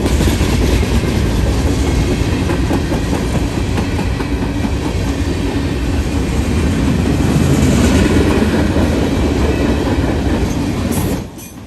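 A long freight train with a DPU locomotive rolls past close by in a steady, loud rumble with rhythmic clickety-clack from the wheels, then cuts off abruptly at the end.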